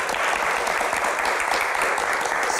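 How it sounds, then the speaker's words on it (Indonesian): Steady, dense audience applause from a large crowd, continuous and loud throughout. "Baik, tepuk tangan."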